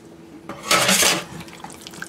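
Pumpkin purée plops and slides from a container into a bowl of no-churn pumpkin pie ice cream mixture, a brief soft wet splat with a faint scrape afterward, close and alone.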